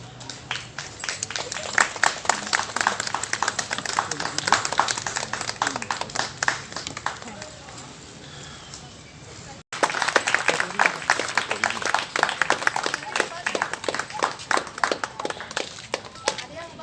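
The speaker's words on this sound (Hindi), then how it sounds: "ताकि आगे जोर से ताली मारे आप लोग।" Audience at a rangoli competition prize event in Jamshedpur, Jharkhand clapping steadily in sustained applause, fairly distant, briefly thinning out before resuming strongly.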